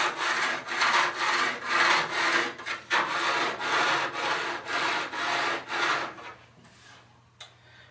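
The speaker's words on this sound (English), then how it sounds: "take your gumi stone on the rough edge and first just take it across the base edge" Gummi stone rubbed back and forth along the steel edge of a snowboard, about a dozen rhythmic rasping strokes close up, fading out near the end with a small knock.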